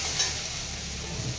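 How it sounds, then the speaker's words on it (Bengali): Potatoes frying on low heat in a pan, a soft continuous sizzle and hiss, fairly faint and even, with no voices. "এবার মাছে হচ্ছে আলু দেব, যার জন্য আলুটাকে একটু হালকা হিটে ভেজে নিই।"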